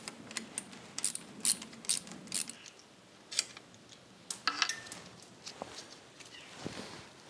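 A wrench works at an oil pipe fitting on the gearbox of a Jaguar XJ6, making soft, close ratcheting clicks and small metallic taps in irregular bursts over a quiet background.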